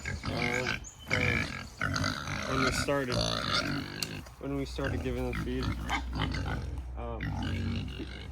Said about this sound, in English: Why is this one separated from the other pigs?